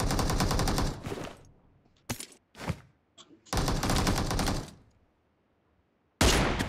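Gunfire in the PUBG Mobile video game, with long loud automatic bursts, a few short single shots in between and a brief silence before a final burst. No one speaks.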